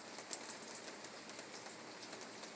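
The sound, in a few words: rain falling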